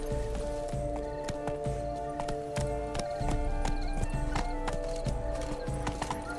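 Hooves beat in quick, steady clip-clop as a horse gallops through the gardens in The Witcher 3: Blood and Wine, loud and close, with faint background music and no speech.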